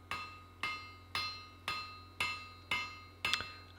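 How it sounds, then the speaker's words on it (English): Seven evenly spaced ringing hammer blows from a broad-faced hammer forging a steel shears blank, each strike sharp and metallic with a short decaying ring, close and alone. "I'm using my nice broad-faced hammer in order to make sure that I don't get any hammer marks in this"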